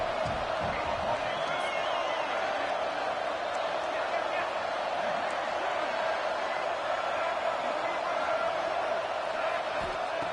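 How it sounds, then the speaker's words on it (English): Stadium crowd in the College Football 26 video game cheers and roars steadily throughout, a dense continuous wash of noise with play-by-play commentary talking over it. "And the crowd coming to life here, trying to help this defense down in the red zone."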